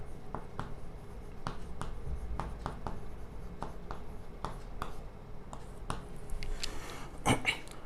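Writing a label beneath a plant-anatomy diagram, heard as a series of short, scratchy strokes at an irregular rhythm, close and fairly quiet, ending in a slightly louder scrape.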